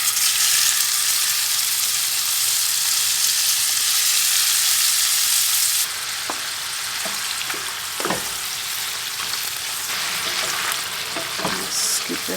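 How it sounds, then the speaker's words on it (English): Burbot fish sizzle in hot butter in a pan, a loud, steady crackling hiss that drops slightly partway through, with occasional utensil clinks and scraping as the pieces are moved. "I want that butter to be nice and hot when I toss the fish in. So let's toss our fishies in."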